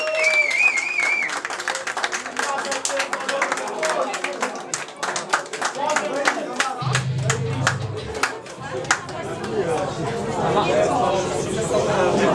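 An audience in Hary Pub in Białystok applauds and cheers a punk band, with steady clapping, whistles and shouting, and voices talking loudly over the noise.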